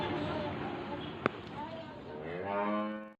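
A village cow on a farm where cows are milked by hand moos in one long, loud, drawn-out bellow that rises toward the end, with a faint knock partway through.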